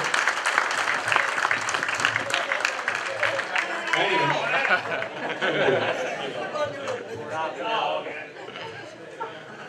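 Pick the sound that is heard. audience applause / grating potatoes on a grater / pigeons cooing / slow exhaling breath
audience applause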